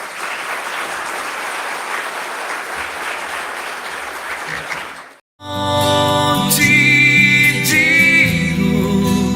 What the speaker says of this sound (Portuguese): Uma salva de palmas para o coral.